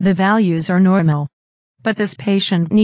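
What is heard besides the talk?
No distinct noise like a dog, phone or traffic.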